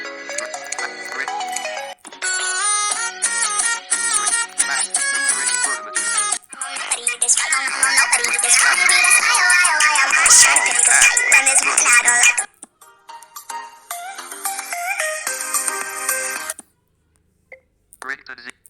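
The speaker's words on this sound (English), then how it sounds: "Ringtone. Bird image." Phone ringtones with bird sounds play one after another on a smartphone, bright chirpy melodic tones in short bursts with brief gaps, loud and close, ending in quiet.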